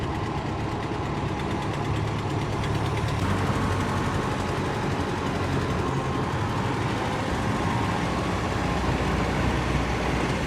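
A 1920s vintage car runs with its engine chugging steadily and evenly throughout, a continuous mechanical rumble with no clearly marked gear change standing out.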